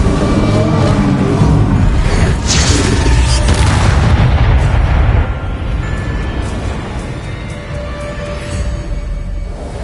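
A Depulso spell cast in Hogwarts Legacy amid a loud, booming combat blast, with a burst of heavy impacts early on that settles into a continuous rumbling roar.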